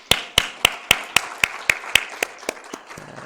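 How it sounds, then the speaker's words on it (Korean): A church congregation claps in unison, about a dozen sharp, evenly spaced claps in a steady rhythm that fade slightly toward the end. No voices are heard. "우리 예수님께 감사의 영광 박수 올려드리겠습니다."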